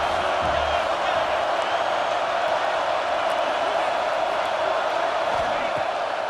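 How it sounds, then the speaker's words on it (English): Home crowd noise in EA Sports College Football 26 forms a dense, continuous roar at a steady high level, with a voice talking over it. "how nice is it to have the home crowd going absolutely bananas"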